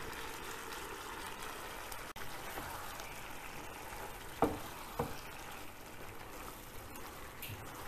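A pot of water at a boil as penne pasta goes in for a cherry tomato dish. Quiet, steady bubbling hiss with a sharp click and two soft splashy knocks midway.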